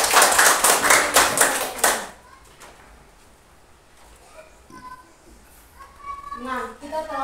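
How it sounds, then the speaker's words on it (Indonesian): Classroom audience applauds for all the presenting groups, a brisk burst of rhythmic clapping lasting about two seconds before fading into quiet room noise with a few light knocks and voices. "Tepuk tangan untuk semua kelompok."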